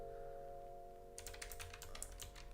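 Typing on a computer keyboard while designing a shirt: a quiet hum at first, then a quick run of soft, close key clicks in uneven bursts.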